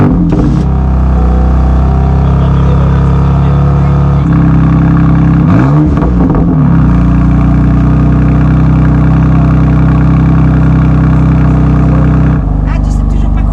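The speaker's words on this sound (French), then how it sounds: "parce qu'un petit démarrage à froid comme ça là" Manhart MH2 550 car on a cold start, its engine idling loud and steady with a brief blip partway through, while people talk over it.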